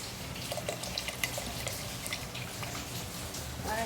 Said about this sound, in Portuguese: Eu vou colocar, gente, 1 litro de leite.